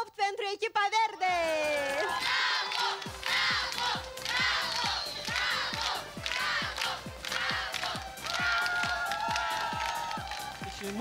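A studio audience at a Romanian-language television show claps and cheers, with a steady rhythmic clapping running for several seconds; a host's amplified voice talks over it.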